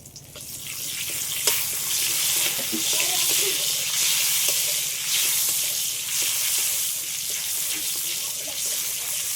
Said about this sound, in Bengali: তেলটা গরম হয়ে গেছে এর মধ্যে পোস্ত দিয়ে দিচ্ছি